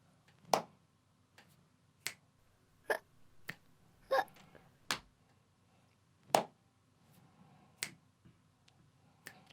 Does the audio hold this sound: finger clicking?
yes